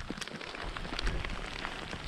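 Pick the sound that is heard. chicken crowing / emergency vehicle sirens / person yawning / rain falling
rain falling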